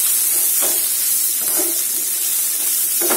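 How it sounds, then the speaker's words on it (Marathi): Curry leaves frying in a pan for besan pithale, a loud continuous sizzling hiss with a few soft stirring scrapes, close up and without speech. "आणि कढीपत्ता आणि आपल्याला परतून घेऊया"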